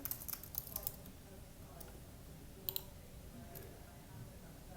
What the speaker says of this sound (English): type in our script name here